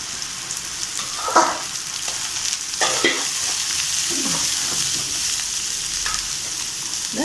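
Capsicum, carrot and cabbage stir-fried in a pan for chicken fried rice, with a continuous close sizzle and a few scraping tosses of the utensil through the vegetables.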